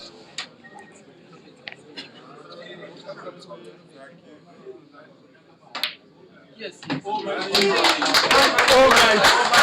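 Snooker crowd at an international challenge match breaking into applause after a cannon shot, a dense burst of clapping that swells loud in the final seconds after quieter murmuring and a few isolated claps.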